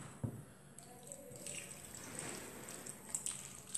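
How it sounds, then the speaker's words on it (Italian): Water from cooked mussels is poured over bread in a kitchen to soften it for a fried stuffed mussel filling, giving a quiet, steady trickle with light drips close by and no talking. "e aggiungo l'acqua."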